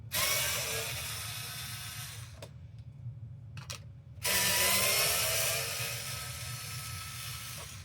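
An automatic screw gun whirs loudly as it unscrews screws from an Xbox Series X console, stopping briefly for a switch of direction before running again with a steady ratcheting buzz.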